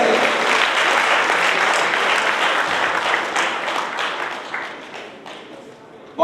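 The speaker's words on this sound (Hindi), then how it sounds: "जोरदार तालियां एक ही घर से" Loud applause from an audience at a talent honors ceremony in Bikaner, many hands clapping together in a dense, sustained roar that gradually tapers off toward the end.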